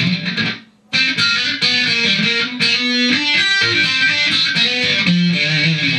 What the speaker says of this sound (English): Deep DB distortion.